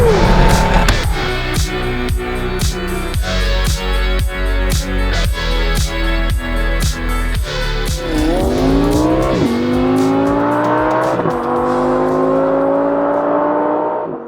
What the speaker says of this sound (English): it's going to be loud, it's a V8